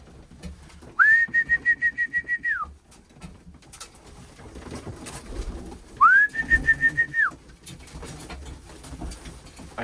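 Pigeons in a loft give two clear, drawn-out calls, each a steady tone with a rapid pulsing flutter, separated by a few seconds of quiet shuffling and rustling. Nobody speaks.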